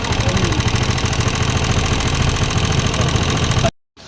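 A Rusi 125 motorcycle engine idles loudly and close up with a steady rapid ticking from running low on oil, running alone for nearly four seconds before cutting off abruptly.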